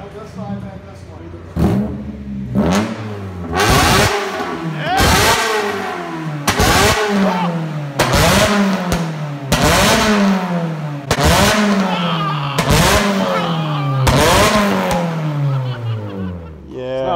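Honda S2000 (AP1) with a homemade exhaust revs hard again and again, each sharp rise in pitch falling away in a steady rhythm of blips, loud and close throughout.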